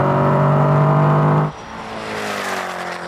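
A Koenigsegg Agera RS hypercar revs hard at a drag race launch with a loud, steady high-pitched engine whine that cuts sharply at a gear change, then builds again more quietly.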